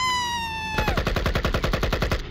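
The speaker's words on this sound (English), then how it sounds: "Oh my god, it's got a gun!" Rapid burst of gunfire from a gun-wielding orange, a steady run of evenly spaced loud shots that cuts off a high ringing tone and continues to the end.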